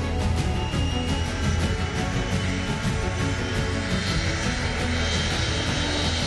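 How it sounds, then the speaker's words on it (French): Engines of a Bombardier Challenger 601 jet aircraft: a loud, steady, broadband roar with a continuous hum, unbroken and close, as if heard from on board. "à bord du Challenger 601, un aéronef puissant et rapide fabriqué par Bombardier"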